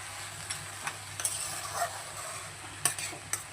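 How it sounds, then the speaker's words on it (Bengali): Bori, lentil dumplings, being stirred as they fry in a pan, with soft sizzling beneath irregular scrapes and clinks of a spoon against the metal, close by. "দেখো দিয়ে দিলাম বড়ি ভাজাটা, এই বড়ি ভাজাটা দিয়ে ভালো করে নেড়ে নেব।"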